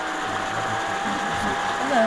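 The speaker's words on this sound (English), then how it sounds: "who has the vacuum cleaner?" A vacuum cleaner runs with a steady mechanical whine during a city council meeting, with a brief rising whistle near the end.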